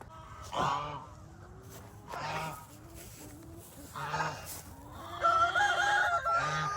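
Several loud honking, squawking calls from fowl ring out in separate bursts over a quiet background, with softer clucking between them.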